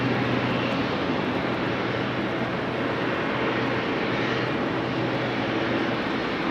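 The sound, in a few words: Embraer E2 jet taxiing to runway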